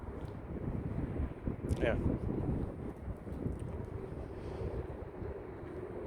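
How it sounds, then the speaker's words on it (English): Wind buffets the microphone outdoors near Old Trafford, a steady low rumble running the whole time, with a brief voice partway through. "it's windy as well"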